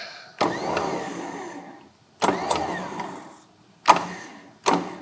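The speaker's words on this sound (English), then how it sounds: "Engage the winch." A Ford Performance WARN electric winch runs in four separate bursts, each a loud motor whine that swells and fades, the last two shorter, all close and with no talk.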